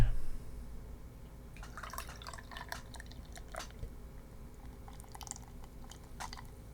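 Beer pours into a glass with soft liquid splashing and dripping over a steady low hum, the glugging and fizzing coming in uneven bursts close by; a hoppy, juicy brew.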